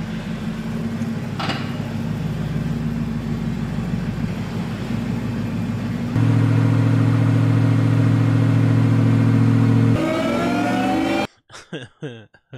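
A car engine revs on a dyno, holding a steady loud drone that steps up in pitch and volume partway through, then climbs higher before cutting off abruptly, followed by a few brief knocks.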